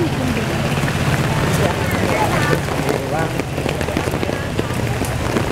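Steady rain falls in a continuous dense patter outdoors on a December morning, with voices talking underneath and occasional wind rumble.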